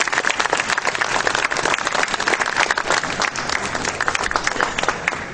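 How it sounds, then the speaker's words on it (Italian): An audience applauds at a civic ceremony in Condofuri, Italy, as a mayor steps up to present flowers to a poet. Dense, steady clapping runs throughout at a fairly loud level, with faint voices mixed into the crowd. "accompagniamolo con un applauso."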